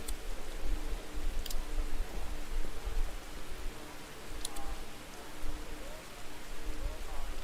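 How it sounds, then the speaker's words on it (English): Steady heavy rain drumming in the DiRT Rally 2.0 rally game, a dense wash of noise holding evenly throughout with occasional sharper ticks, under a low engine rumble. "Heavy rain."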